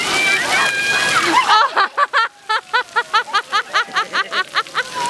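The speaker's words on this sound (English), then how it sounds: "He was splashing in it." A baby splashes in water with a quick, regular series of slaps and sloshes. Voices talk at the start before the rhythmic splashing takes over.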